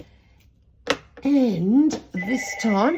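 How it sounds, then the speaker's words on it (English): A telephone bell rings in a room, a couple of bright trilling bursts heard under a woman's speech. "oh, excuse me, that's the phone."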